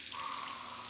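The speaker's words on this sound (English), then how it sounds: "I can do the dishes. It's like a water mini game." Steady running water from a tap in a video game dishwashing mini game, a continuous gushing hiss holding at an even level for the whole moment.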